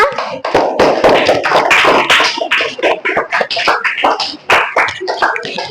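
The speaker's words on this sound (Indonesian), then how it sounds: "beri aplaus buat kelompok 6" Applause from a classroom of students for the sixth group after their presentation, a loud, dense burst of clapping that carries steadily from start to finish.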